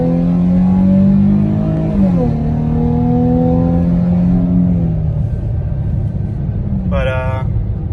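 A 2017 Dodge Charger SXT AWD engine revs loudly and steadily, its pitch climbing and dropping through gear changes, with a brief higher whine near the end.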